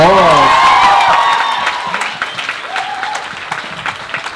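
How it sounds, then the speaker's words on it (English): An audience at a physiotherapy student and staff dinner claps and cheers after a skit, the applause starting loud over a voice and then thinning into scattered claps. "Everyone give Jack a round of applause"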